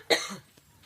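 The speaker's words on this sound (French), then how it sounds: "Je vais tousser." A single short cough from a woman during a French interview, one quick burst that fades within half a second against a quiet background.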